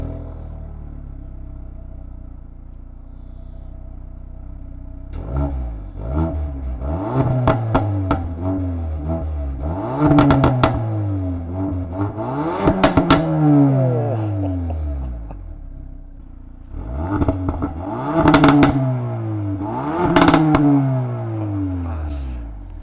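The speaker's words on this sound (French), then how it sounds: "le son de l'échappement est très atténué, très feutré" A Ford Focus ST Mk4 engine revs up in several rising and falling bursts, the exhaust note deep and subdued rather than loud or raspy.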